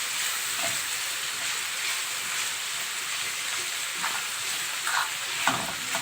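Garlic cloves sautéing with chicken hearts in a hot pan give off a steady, loud, dense sizzle, with occasional faint stirring knocks beneath it and no talk.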